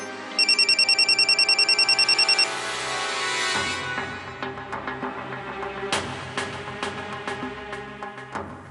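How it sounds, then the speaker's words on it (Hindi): A telephone rings in rapid electronic trills for a couple of seconds, then stops, followed by soft clattering and bumping sounds nearby. "स्नेहा फोन क्यों नहीं उठा रही?"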